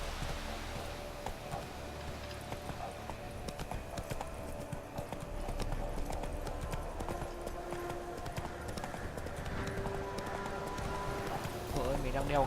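Roach, the horse in The Witcher 3, gallops with steady clip-clop hoofbeats under game music and ambience, while someone talks over the running hooves throughout.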